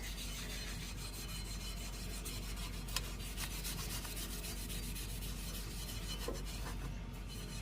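Vinegar-soaked steel wool rubbing rust off an HSS woodturning tool held on a lathe, a continuous dense scratchy abrasion at steady loudness, close by, with one faint click partway through.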